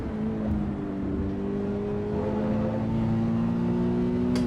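Steady, droning engine of a Toyota racing car in Assetto Corsa Evo, holding a sustained, slowly rising tone at moderate volume with no talking.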